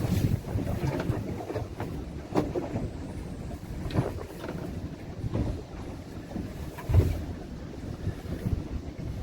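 Wind buffets a fishing boat on the Black Sea during horse mackerel jigging, a steady broadband roar with rumbling low gusts and occasional hull knocks and water slaps, no talking.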